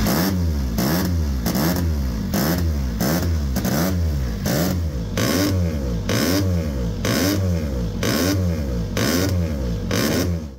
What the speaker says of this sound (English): You might think that's sounding off like it's running a bit rough, but honestly that's what all Rotaries sound like